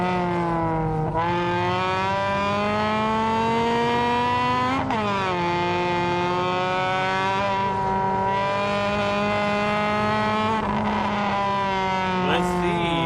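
NASCAR Division III enduro race cars roar around an oval track, engines whining and shifting pitch as they pass through the turn, loud and continuous with a voice talking over them.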